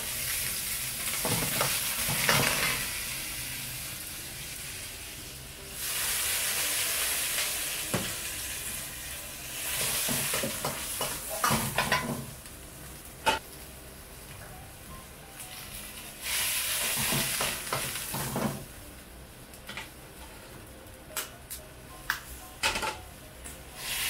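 Ingredients for ankake yakisoba hiss and sizzle as they are stir-fried in a wok in a busy Chinese restaurant kitchen, with loud bursts of frying and metal tool scrapes between quieter pauses.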